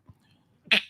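A single sharp sneeze bursts out near the end, loud and close, after a short quiet stretch with only a faint low murmur.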